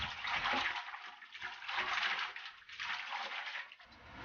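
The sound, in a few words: washing heartleaf (zhe'ergen) roots in clear water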